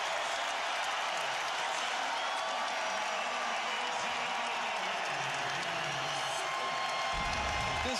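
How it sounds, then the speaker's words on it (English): Basketball arena crowd cheering after a block in a Spurs at SuperSonics playoff game, a dense continuous roar of applause and shouting filling the space, with a faint voice near the end. "This crowd is insane right now"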